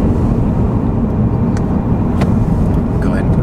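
Volkswagen car accelerating on a road test drive, a loud steady interior rumble of engine and road noise with a few faint clicks and a brief high tone near the end.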